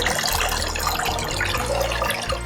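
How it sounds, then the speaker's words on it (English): Water draining out of a soaked Reptichip coconut substrate block, a brief continuous trickle and splash close by with no talk. "Drain some of the water out."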